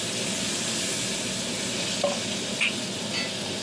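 Steady hiss of hot oil sizzling in a wok, continuous and close, with a couple of faint clinks partway through.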